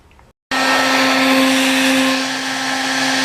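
A hair dryer switches on after a brief moment and blows loudly and steadily, a close, constant whine with a rushing airflow, used on Yamaha RD400 motorcycle carburetor parts.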